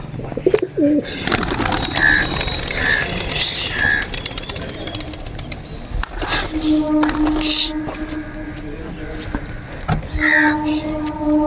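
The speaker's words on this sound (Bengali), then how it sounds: "সাতটা টোটাল সাতটা পায়রা বাইরে ছেড়েছি এই সাতটা পায়রা আজকে ওড়াবো" Seven Giribaz pigeons released outdoors coo repeatedly nearby amid outdoor background noise, with brief bursts of wing flapping and a few chirps scattered through.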